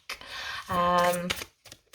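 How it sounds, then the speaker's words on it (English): A cardstock tarot deck with a slight bow is riffle-shuffled, giving a quick, close, rattling burr of cards lasting under a second, with soft clicks and a brief voice-like tone around it. "But it shuffles gorgeous."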